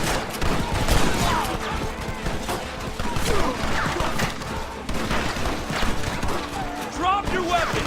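Gunfire in the video game Red Dead Redemption 2 during a shootout, dense volleys of shots and crashes under a continuous backdrop of shouting voices and game sound.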